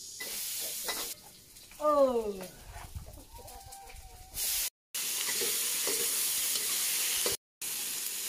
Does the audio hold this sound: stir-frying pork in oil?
yes